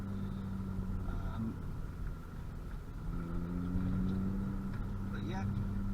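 A Honda Civic EP2 drives along with a steady low engine hum and road rumble, a tone rising gently as it accelerates in the latter half, and faint voice sounds present beneath.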